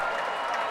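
Audience applause at a men's bowling world championship singles match, a steady dense wash of clapping from the stands, fairly loud and continuous with no talk over it.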